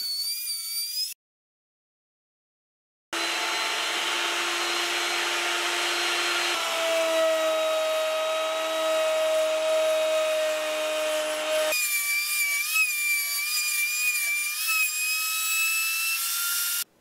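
A router table cuts into a wood workpiece: a short whine, a brief silence, then a long, loud, steady high-pitched cut whose tone shifts partway through.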